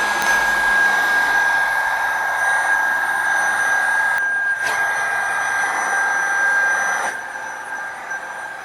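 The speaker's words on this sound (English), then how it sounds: "I'll just hit it with a heat gun a little bit." A heat gun blows steadily on a planar magnetic speaker panel during a rebuild, a loud continuous whooshing hum with a high whine, briefly dipping twice as the airflow shifts.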